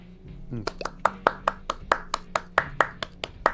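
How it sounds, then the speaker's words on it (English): Steady rhythmic hand clapping during a quiz game show, about fifteen sharp, evenly spaced claps in quick succession, close and fairly loud, with a brief voice near the start. "we don't have to do the clapping anymore"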